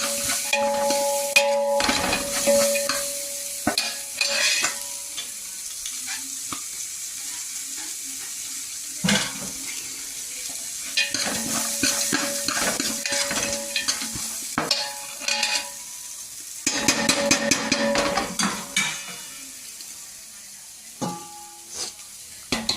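Food frying in ghee in a pan while being stirred, with bursts of sizzling and scraping clatter coming in several loud close spells separated by quieter pauses.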